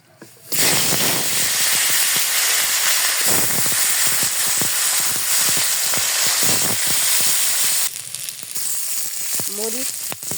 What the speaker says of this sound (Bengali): তেল গরম হয়ে গেছে, এখন মাছ দিয়ে দেবো।